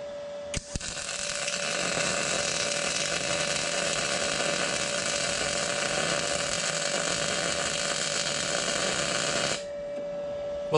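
A MIG welder run at maximum amperage lays a bead with a loud, steady crackling buzz that holds unbroken for about nine seconds, then cuts off abruptly.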